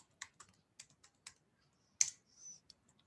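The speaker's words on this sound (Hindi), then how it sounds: "मैं अपना पासवर्ड एंटर कर देता हूँ" Keys tapped on a computer keyboard while a password is typed: about eight sharp, separate clicks at an uneven pace, with a brief louder clatter near the end, close and alone in a quiet room.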